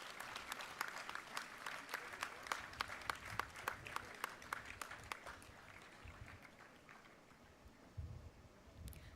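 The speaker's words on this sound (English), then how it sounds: "I think it will be a great idea if you can clap." Applause from an audience fills an auditorium during an evening plenary session, a steady patter of many hands that is fairly quiet and distant and tapers off toward the end.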